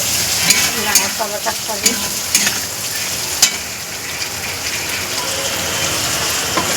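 Onion and ginger sizzle in a hot pan for rajma, a dense crackling fry broken by sharp scraping stirs of a spatula.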